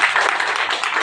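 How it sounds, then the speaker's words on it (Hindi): An audience at a marketing plan seminar claps in honour of a guest, producing a brief, dense, continuous wash of applause. "चाहूंगा सर के सम्मान में एक बार जबरदस्त ताली हो जाए"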